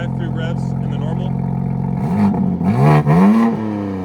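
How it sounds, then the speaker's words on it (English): A BMW M2 G87 with the stock exhaust and a single non-resonated mid-pipe idles steadily, then revs up in a couple of sharp, loud blips that settle back down. "All right, try a few revs in the normal."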